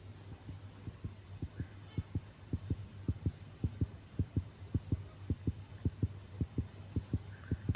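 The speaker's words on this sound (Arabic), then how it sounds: "سامع نبضات قلبي ليه؟" In the horror video game Granny, a heartbeat thumps in a steady, regular double-beat rhythm, muffled and low, repeating throughout over a faint hum.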